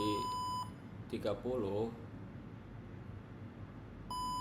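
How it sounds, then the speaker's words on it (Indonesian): A buzzer on a microcontroller temperature and humidity monitor sounds a steady high electronic tone at the start and again at the end, with a person speaking briefly in between. "maka buzzer akan berbunyi"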